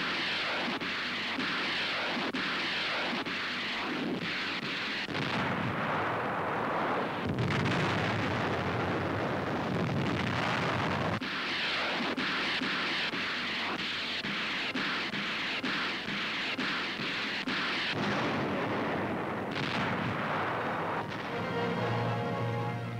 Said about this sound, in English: The city of Zweibrücken in the Saar is pounded by United States 7th Army weapons